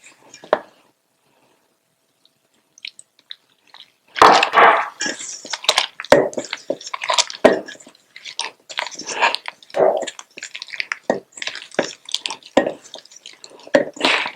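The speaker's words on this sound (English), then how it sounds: "When you're kneading your dough, make sure you're adding the water little by little." Samosa dough is kneaded by hand with water added little by little, producing close, wet squishing, slapping and sticky pressing sounds in irregular bursts after a quiet opening, with no talk.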